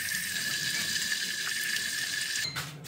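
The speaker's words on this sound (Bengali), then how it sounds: "এটাকে জল ভর্তি করতে হবে।" Tap water runs steadily into a plastic foam cannon bottle for a high-pressure car washer, a continuous close hiss and splash that cuts off near the end.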